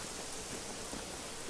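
Steady broadband rain hiss in the video game Generation Zero, a continuous even wash of falling rain with faint patter, no voices.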